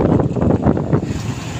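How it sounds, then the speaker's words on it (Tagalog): Strong wind buffets the microphone in low, rumbling gusts for a couple of seconds, with no one speaking. "grabe ang hangin"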